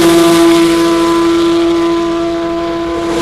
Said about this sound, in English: Nowhere but at Le Mans can you see and hear cars motor as fast as they do here on the public highway.